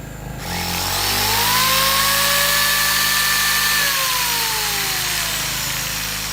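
A small two-stroke 0.7 kW generator runs loud and close under a lamp load, its engine note climbing to a steady high whine, then sagging and dropping in pitch as it labors.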